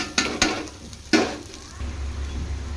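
Fried vegetables and two cups of cooled rice hit a pan for veg fried rice, with sharp spatula knocks, then a soft sizzling stir-fry hiss underneath.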